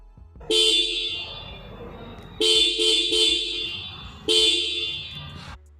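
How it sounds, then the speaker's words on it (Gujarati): A TVS Apache RTR 160 4V motorcycle horn sounds three times in sustained blasts, loud and close, with short pauses between, over a low engine idle. "હું તમને હોર્નને બધું ચાલુ કરીને બતાવી દઉં"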